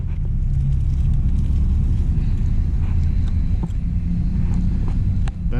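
Yamaha Tenere 700 motorcycle engine idling, a steady low rumbling drone held at constant level throughout, close and loud outdoors.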